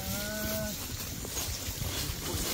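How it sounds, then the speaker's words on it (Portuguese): A single cow lets out a short, low moo in a pasture on a Brazilian farm with Caracu cattle, heard over steady wind and outdoor rumble, with no talking. "Olha o tanto de vaca."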